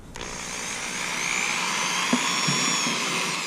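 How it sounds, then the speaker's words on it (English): A power drill with a regular bit bores through a wall during a marine shore water inlet install, giving a steady, loud whine that runs continuously from start to finish with no talk. "I'm gonna use a regular drill bit and drill through, and then drill through the wall"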